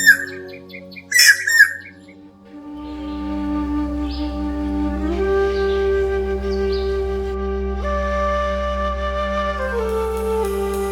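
A kingfisher gives a few sharp squawking calls early on in a mangrove forest on Koh Chang, then a steady sustained tone with shifting pitches carries on alone for the rest.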